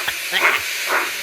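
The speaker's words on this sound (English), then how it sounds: "Just then, Gordon puffed by whooshing steam." A steam engine puffs past, giving off soft whooshing bursts of hissing steam over a constant airy rush, loud and close for just over a second.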